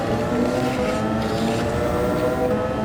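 A Group 1 race car in Gran Turismo 7 at Le Mans runs at full throttle, a loud, steady high-revving engine drone that holds close throughout.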